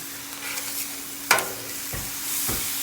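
Steaks searing on a Blackstone griddle at 375 degrees: a loud steady sizzle close up, punctuated by three sharp spatula clanks against the steel.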